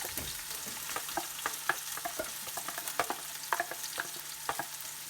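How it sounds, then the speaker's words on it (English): Leeks sizzle in oil in a soup pot, a soft steady frying hiss with irregular clicks and scrapes from stirring, close but fairly quiet, no voices. "first we're going to saute the leeks, so you're just going to put them all into the pot"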